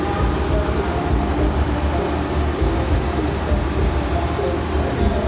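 A steady, loud low rumble of a parked truck engine running in place, with a constant broadband drone and no distinct changes throughout.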